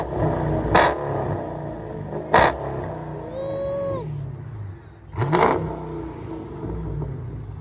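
2016 Dodge Challenger 392 HEMI Shaker Edition with straight pipes and mufflers removed, revving in three sharp, loud blips over a low idle rumble, with a brief whine between the second and third revs.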